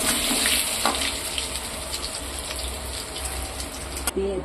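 Egg pieces frying in oil until reddish, a steady close hiss and crackle with occasional stirring clinks, no talking.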